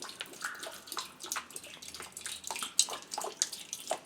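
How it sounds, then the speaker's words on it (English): Hot water pours into a Maytag MVWP575G commercial washer running its self-test, a soft, steady splashing and trickle close by with small drips and clicks, fairly quiet and alone. "Then it'll switch the hot water valve on for 10 seconds."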